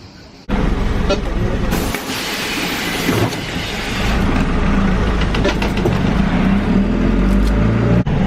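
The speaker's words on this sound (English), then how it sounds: "So we're back on the number 6 bus, heading back into town" Inside the number 6 city bus in Tbilisi, Georgia, a loud, steady low rumble of engine and road noise runs throughout, with rattles and a few sharper knocks over the constant drone.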